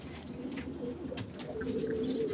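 Domestic pigeons kept at a home coo softly in low, throaty murmurs that come and go over a faint background, with no speech.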